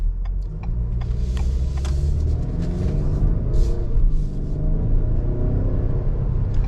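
A 2022 Ford Explorer ST-Line accelerates in sport mode, its engine giving a steady loud cabin rumble that rises in pitch, with faint ticking clicks over it.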